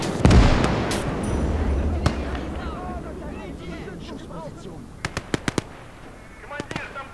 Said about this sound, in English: Artillery is firing now.